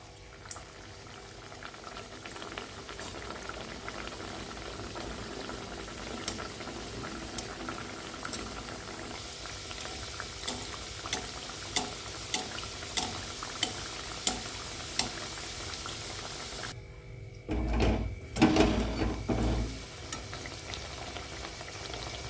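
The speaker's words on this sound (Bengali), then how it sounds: "আমি উল্টে পাল্টে পুরিটা ভেজে নেব" Potato-stuffed spinach puri frying in hot refined oil in a pan on a gas stove gives a steady close sizzle and bubbling, which swells into a louder, rougher burst near the end as the puri is turned.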